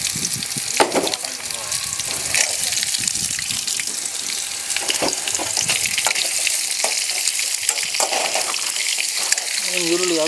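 Chopped onion sizzles in a pan alongside chicken liver, a bright continuous fry broken by stirring clatter and scraping, with a voice talking quietly over it.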